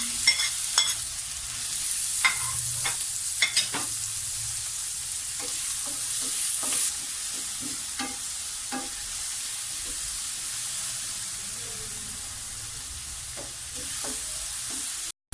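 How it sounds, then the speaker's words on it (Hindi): Garlic and onion frying in a pan, a steady loud sizzle with repeated scraping and clicking from stirring, heard close and alone. "लहसुन ऐड करें और इसे थोड़ा सा भूनेंगे। इसके साथ ही इसमें हम प्याज डाल देंगे।"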